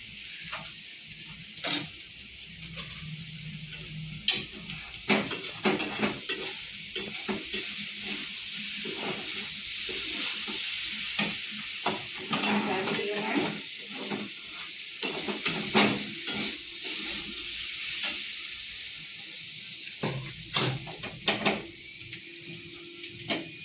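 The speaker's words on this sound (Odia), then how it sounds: "ଡାଲମା ଛୁଙ୍କ ଦେଇଦେଲି।" Hot oil sizzling loudly as spices hit it while tempering Odia dalma in a kadai, steady crackling hiss with intermittent stirring and clinks of a spoon against the pan, no talking.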